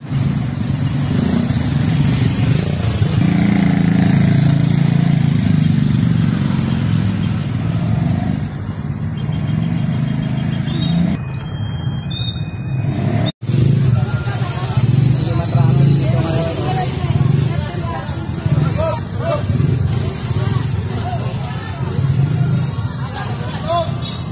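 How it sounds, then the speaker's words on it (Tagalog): Dense road traffic of cars and motorcycles jams outside Bagtas Elementary School in Cavite, engines idling and revving up close while a voice talks over the mix. "Dito po marami ng mga sasakyan"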